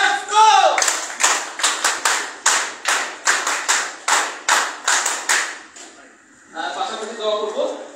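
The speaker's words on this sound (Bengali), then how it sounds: "করতালি দিয়ে উৎসাহিত করি।" Applause at a ceremony, a run of evenly spaced, crisp hand claps keeping a steady rhythm for several seconds, then stopping as a voice begins speaking.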